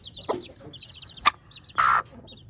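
A broody hen clucks in a few short, close bursts while her newly hatched muffed chicks peep faintly and rapidly around her.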